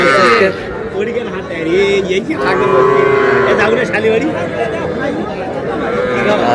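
Cattle moo loudly and repeatedly amid the constant chatter of a dense crowd at the Ambari livestock market, long low calls rising above the busy market noise; young bulls and heifer calves are being sold.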